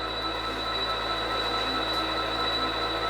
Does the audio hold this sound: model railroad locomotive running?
yes